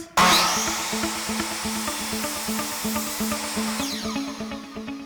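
A power saw buzzes loudly through a wooden board, trimming a little off in one continuous cut with a rapid pulsing rhythm, close up.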